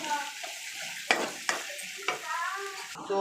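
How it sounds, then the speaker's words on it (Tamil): Onions and curry leaves sautéing with spices in a pan, a soft steady sizzle with a few sharp scrapes of the spatula, close up and fairly quiet. "இது வந்து நல்லா பொன்னிறமாக கொஞ்சம் நல்லா வதக்கி எடுத்துக்கலாம்."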